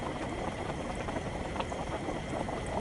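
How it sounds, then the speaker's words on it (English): Liquid bubbles steadily like a witch's cauldron in the DayZ video game, a continuous dense gurgling and popping with no pauses, moderately loud and heard alone. "sounds like a damn witch cauldron bubbling"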